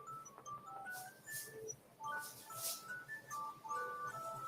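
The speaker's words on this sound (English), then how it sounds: "I got a phone call coming in." A phone rings with an incoming call, a melodic ringtone of short electronic tones in a repeating pattern, fairly faint and clear with no talk over it.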